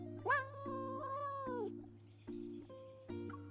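Kitten meowing in the video game Love and Deepspace, a drawn-out high mew followed by several shorter mews over a steady low background hum, close and clear.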